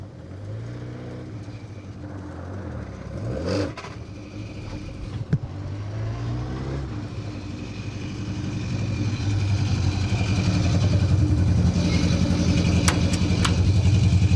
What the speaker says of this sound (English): the noise of a proper Group A Subaru Boxer engine just takes some beating